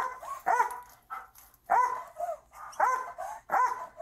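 A police dog barks in loud, sharp bursts at close range inside a hotel, about five barks spaced unevenly over a few seconds, alone without talk.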